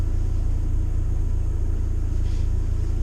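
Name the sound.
car driving on a road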